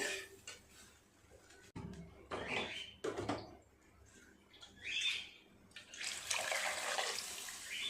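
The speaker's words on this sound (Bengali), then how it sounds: "প্রেসার কুকারটা ধুয়ে আর একটু জল দিয়ে দেবো" Water runs and splashes intermittently while a pressure cooker is washed and refilled, with bursts of tap flow and clinks of metal, faint and with no talking.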